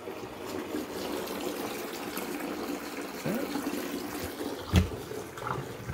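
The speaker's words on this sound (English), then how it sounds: "it's draining perfectly out of the clothes" A KUPPET clothes washing machine draining soapy water out of a load, a steady trickling gush running throughout, close and fairly loud, with one brief louder splash near the end.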